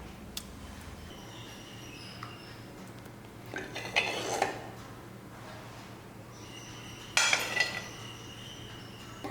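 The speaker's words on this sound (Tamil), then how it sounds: "இப்போ இந்த குழம்பை எடுத்து வச்சு பரிமாறிக்கலாம்." Drumstick flower gravy being served into a dish in a kitchen: two short bursts of clinking ladle and dish sounds against a quiet background hum, with no speech.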